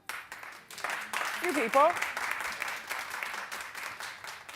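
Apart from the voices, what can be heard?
audience applause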